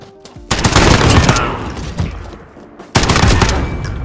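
FAL rifle gunfire in a search-and-destroy round of a first-person shooter game, two loud bursts of rapid shots close by, with a short gap between them.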